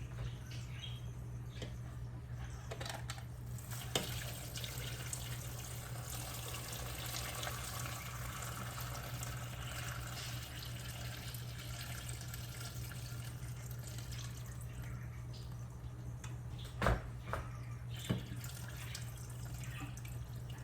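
Water runs into a pot of suman, glutinous rice, being readied for boiling, a faint steady splashing stream over a low hum in a quiet kitchen.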